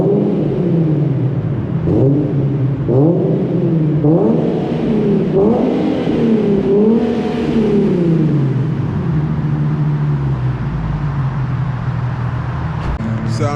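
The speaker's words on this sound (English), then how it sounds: "let me go ahead and show y'all some revs" An Infiniti G37 engine revs repeatedly, rising and falling in several close, loud pulls before settling into a steady drone, with no talk over it.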